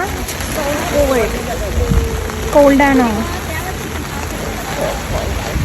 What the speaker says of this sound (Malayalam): മഴയ്ക്ക് എന്തോ ഒരു വാശിയുള്ള പോലെയാണ് കേട്ടോ